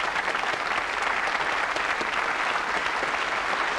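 Steady, thick clapping from a television game-show studio audience fills the whole stretch, an unbroken crowd applause heard up close.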